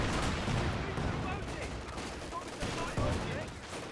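Gunfire and explosive cannon shots from a Panzer IV tank firing on an MG34 machine-gun position in the Company of Heroes 2 war game, a dense continuous battle din with overlapping bursts and a commentator's voice talking over it.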